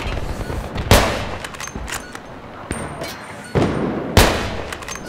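Sniper rifle fire in Battlefield 3 on Tehran Highway, with sharp, loud single shots at uneven intervals, each followed by a short rumbling tail, over quieter in-game battle noise.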